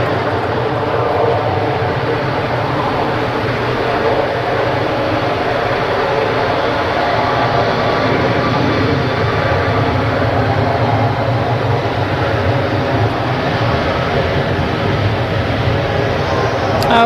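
An Airbus A320neo rolls across the runway at Manchester Airport, giving a steady, loud broadband jet roar that holds evenly throughout with little change.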